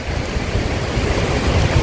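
Wind and rain at a lake while fishing: loud, continuous gusty rushing with a dense hiss, close to the microphone, no talk.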